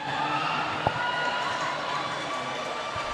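Crowd cheering at a junior roller derby championship game, a steady broad roar of voices filling the venue throughout, with one brief louder thump.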